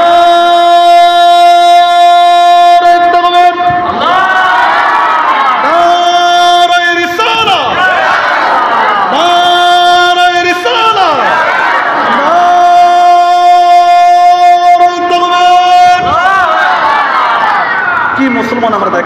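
A crowd at an Eid-e-Miladunnabi religious gathering chants the takbir in loud unison, with repeated swelling calls that rise and fall over an amplified setting.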